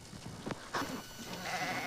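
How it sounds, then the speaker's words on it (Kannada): A sheep bleating nearby, a couple of short wavering calls with rustling and shuffling around them, fairly quiet and without speech. "ಇದು ನೋಡಿ ಇದು ಒಂದು ಕುರಿ ನಮ್ಮ ಕುರಿ ದೊಡ್ಡ ಕುರಿನ"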